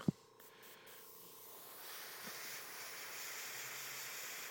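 An airbrush at high pressure gives a short click, then a steady, soft hiss of compressed air that keeps on with no voices.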